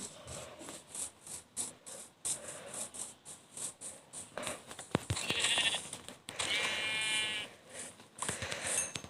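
A couple of sheep bleats in Minecraft ring out over busy game background sounds, the second one longer and louder.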